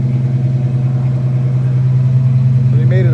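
A 1986 Oldsmobile Cutlass 442 engine idles with a deep, steady rumble and throaty dual-exhaust burble, loud and close, with a brief voice near the end.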